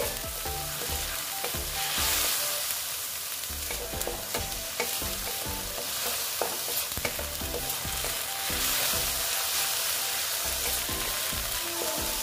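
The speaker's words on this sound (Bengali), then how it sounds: "দিয়ে একটু নেড়ে চেড়ে নিচ্ছি।" Soybean and chana dal mixture with tomato stirred as it fries in a pan, steady close sizzle with repeated scraping strokes of a spoon against the pan throughout.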